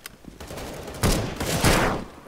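Gunfire in Counter-Strike: Global Offensive, with a few scattered shots early, then two loud bursts of rapid fire close by, each trailing off into echoing decay.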